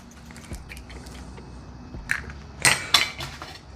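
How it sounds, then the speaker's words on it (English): Four eggs cracked into a mixing bowl for peanut butter brownie batter; soft taps followed by sharper clinks and cracks near the end, close and quiet, no talking. "And we're gonna crack in 4 eggs."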